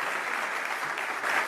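A political audience breaks into brief applause, a short wash of clapping without voices, swelling slightly at the end.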